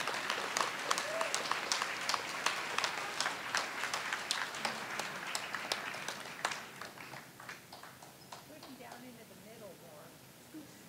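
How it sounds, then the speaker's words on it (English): A school board meeting audience applauds students, a fairly loud burst of many hands that gradually thins and fades toward the end, with scattered claps and faint voices underneath. "And a big round of applause for all these guys."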